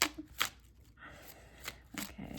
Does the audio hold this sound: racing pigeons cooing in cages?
no